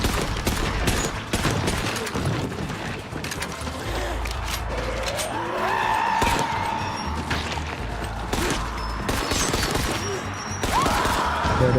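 Ranged weapons fire at a banshee in a zombie video game, a loud sustained barrage of rapid gunshots with deep booming impacts and a rising whine, continuous throughout, with a voice briefly heard underneath.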